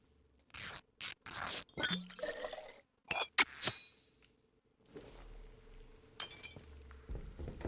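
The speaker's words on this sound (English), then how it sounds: "I think we're passing over a bit of glass on the way down" In the video game Atomfall, glass clinks and crunches underfoot in a series of irregular, close, sharp bursts with quiet gaps between them, and softer rustles follow later.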